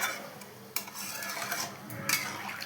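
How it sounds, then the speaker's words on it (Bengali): A spoon scrapes and stirs Chandramukhi potatoes and eggs in a pan just after water is added, a steady wet churning with a couple of sharper clinks against the metal. "জল দিয়ে তাকে এখন নাড়িয়ে নেব"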